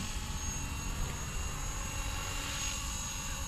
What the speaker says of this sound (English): you'll see that it levels out the helicopter quite nicely